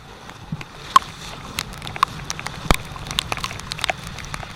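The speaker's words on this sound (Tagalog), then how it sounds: "ngayon pwede na tayo magpaulan kasi wala tayong bakong kapote" Rain falls with scattered close drips and patters, light and irregular, one or two sharper drops standing out against a soft background hiss.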